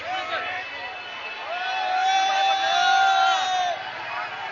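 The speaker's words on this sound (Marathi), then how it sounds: "फुल गर्दी इकडे फुल गर्दी आहे" A dense crowd packs a Mumbai Ganpati darshan at night, filling the air with a steady close hubbub of many voices that swells toward the middle, with some higher calls or whistles over it.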